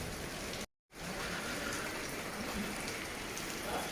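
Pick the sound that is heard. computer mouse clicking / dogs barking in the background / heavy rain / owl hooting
heavy rain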